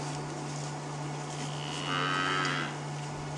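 A herd of buffalo or wildebeest on an evening safari drive gives a low, cattle-like moo that swells briefly and fades, over a steady background hum.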